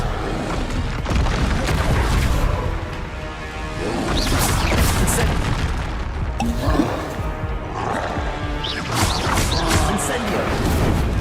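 Expelliarmus disarming spell cast in the video game Hogwarts Legacy, a series of loud booming crashes and whooshing bursts layered with game effects and roaring, dense throughout with a voice talking over it.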